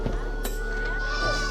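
A goat bleats once at a Nepali temple where goats and chickens are brought as offerings. The bleat is brief and fairly close, with a steady hum and crowd murmur around it.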